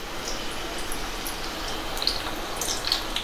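Hot oil bubbles and sizzles steadily in a pan heated for frying spinach and potato bhaji, a soft continuous crackle with a few sharper pops, no talking.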